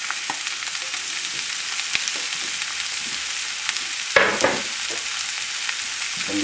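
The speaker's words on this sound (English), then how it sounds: "we still have to saute the vegetables" Vegetables for a chicken sausage and okra filé gumbo sauté in a pan, a steady broadband sizzle with intermittent stirring scrapes and a brief louder clatter midway.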